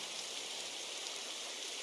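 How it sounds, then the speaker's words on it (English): Steady rain falling at night in a foggy horror video game, a soft, even hiss with no breaks or voices. "Fog appeared and it started to rain."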